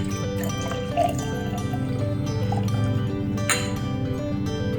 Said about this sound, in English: pour out our last pour.